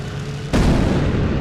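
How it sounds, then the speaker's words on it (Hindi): A sudden loud boom of cannon fire in GTA San Andreas bursts over a steady engine drone and rumbles on afterward. "ये क्या फूटा? लगता है किसी ने तोप मारा"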